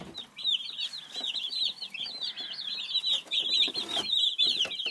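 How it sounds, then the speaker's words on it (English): Young chickens give a continuous stream of high, bright peeping chirps, many birds overlapping at close range with a few soft clucks mixed in, steady and busy throughout. "Coming back to check on the chicks here."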